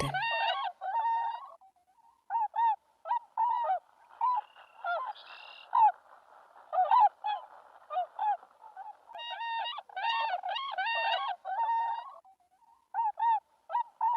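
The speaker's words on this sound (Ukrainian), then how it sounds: "Так співає лебідь" A swan gives repeated honking, trumpeting calls in bursts with short pauses between, clear and fairly close, with no other sounds.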